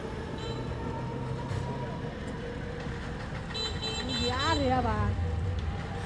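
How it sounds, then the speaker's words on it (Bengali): A rumbling local train arriving at Mymensingh, its engine in poor shape, sounds a long wavering horn or whistle near the end over a steady mechanical drone, while people talk nearby throughout. "এটা একবারে লোকাল ট্রেন একবারে লোকাল"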